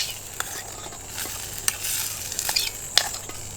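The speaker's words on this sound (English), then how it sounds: "You can hear that stuff already starting to fry up." Potatoes fry in olive oil on an outdoor kitchen griddle, giving a steady close sizzle with scattered crackling pops and occasional stirring clatter.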